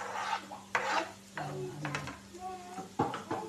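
Onion and garlic sautéing in a pan, with soft sizzling and several bursts of utensil stirring and scraping against the pan, fairly quiet and close.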